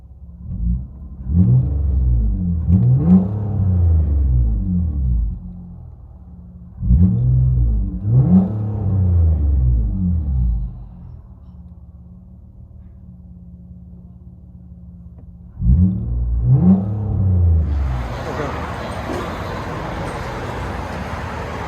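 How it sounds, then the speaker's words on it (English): A straight-piped Nissan Altima SL 3.5L V6 heard from inside the cabin gives three sets of deep, booming rev blips over a low idle rumble, followed by a steadier, broader roar as the car moves off. "Nissan Altima V6 straight piped."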